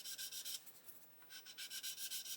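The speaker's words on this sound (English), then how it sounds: "I'm just going to keep sanding until that pencil" A worn sanding stick rubbing across a model aircraft fuselage in quick, even back-and-forth strokes, close and fairly quiet, with a brief pause in the middle.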